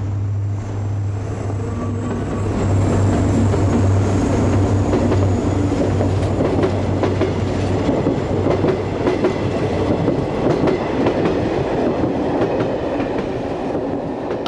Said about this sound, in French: on assistera au défilé d'une batterie de 10 trains